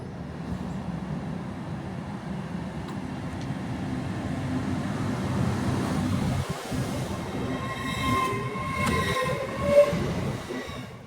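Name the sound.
London North Eastern Railway train to Edinburgh Waverley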